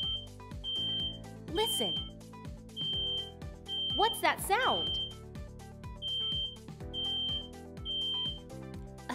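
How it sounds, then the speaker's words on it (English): A smoke alarm sounds a loud, high beep again and again at an even pace, while a voice speaks briefly over it. "A smoke alarm will make a loud beep, beep, beep, beep, beep, beep sound if there is smoke."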